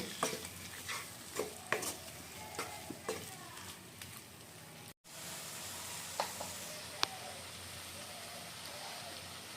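Tomatoes and green chillies cooking in a pan, a soft steady sizzle under repeated scraping and clacking strokes of a spoon, with a brief dropout partway through.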